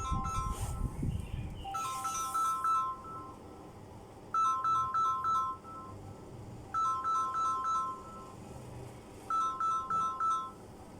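A telephone rings with an electronic ringtone, four separate bursts of chirping tones spaced evenly a few seconds apart, fairly quiet over a faint background hiss.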